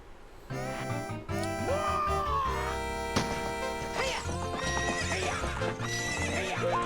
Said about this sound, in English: One lap around the corral with that horse.